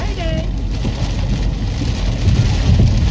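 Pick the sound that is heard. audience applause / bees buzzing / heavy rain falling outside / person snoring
heavy rain falling outside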